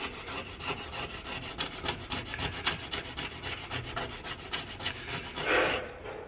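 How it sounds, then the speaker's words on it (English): Caked-on grease is scraped off a hardwood floor in a house, a quick run of rhythmic rasping strokes heard close and fairly quiet, ending in a slightly louder scrape, no talk. "just scraping at it."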